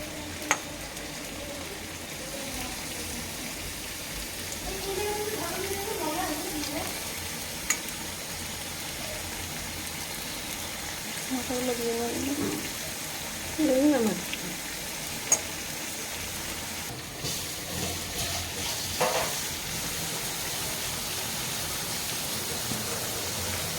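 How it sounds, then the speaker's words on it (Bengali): Moya fish frying in a spice paste gives a soft, continuous sizzle, with occasional stirring scrapes and a few sharp clicks of a utensil against the pan, heard without talk. "মশলাটা কষে আসলে আমি একে একে করে মোয়া মাছগুলো দিয়ে দেব উপর দিক দিয়ে"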